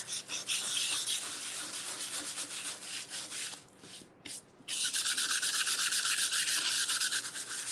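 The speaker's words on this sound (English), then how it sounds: "my hand is literally cramping up from all this sanding" Hand sanding a wooden craft piece: continuous close, scratchy rubbing strokes that pause briefly midway and then resume strongly.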